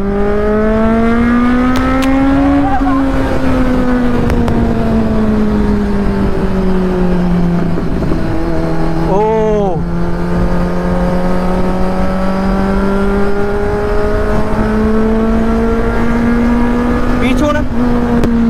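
A Kawasaki Z900 motorcycle cruises on a highway, its engine a loud, steady drone close to the mic that eases slightly and builds again, with rushing wind throughout and a brief throttle blip near the middle.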